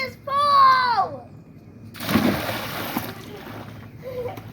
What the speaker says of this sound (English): Hearing your kids laugh, having fun, splashing around